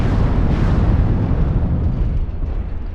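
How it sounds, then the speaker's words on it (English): A dull, rumbling roar of weapon fire striking a rock in the mech combat game MechWarrior Online, a continuous heavy blasting wash with no clear pauses. "Stop shooting, you're only hitting the goddamn rock."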